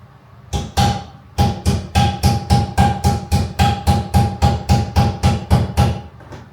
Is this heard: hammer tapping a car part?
yes